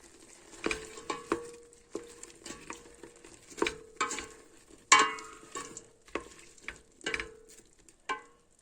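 Meat and onions sizzle in a hot pan while a utensil scrapes and clacks against it in uneven, repeated strokes of stirring.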